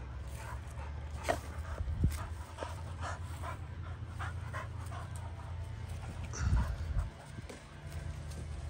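Puppies and their mother dog in a backyard, with soft panting and faint whimpers over a steady low rumble, plus one or two brief louder yelps partway through.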